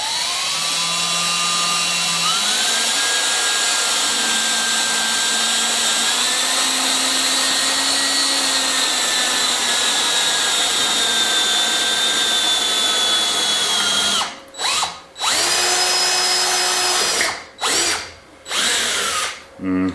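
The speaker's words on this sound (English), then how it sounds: "I'm going to drill a hole through this, and then I'm going to pilot those slightly smaller than the diameter of the screw" Power drill with a worn bit boring a pilot hole for stainless steel screws: a steady, loud motor whine that shifts pitch as speed changes, then stops and restarts in short bursts near the end.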